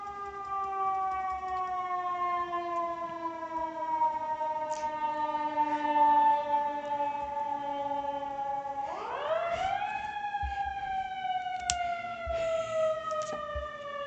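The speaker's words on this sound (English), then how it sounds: "I've got the fire engine coming on my way." A fire engine siren wails loud and close, holding a steady tone before its pitch sweeps down sharply as the truck passes and moves away, with no talking.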